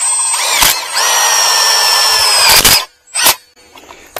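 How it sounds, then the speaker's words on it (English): A power drill drives self-drilling tapping screws while a canopy frame is set up: short bursts, then a long steady high whine that dips in pitch, followed by brief spurts and a pause. It is close and loud, with no talk. "Self-drilling and tapping, boys."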